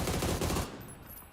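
A short burst of automatic gunfire in PUBG during a Master Series grand final, rapid close shots for about half a second that then trail off into quieter echoes.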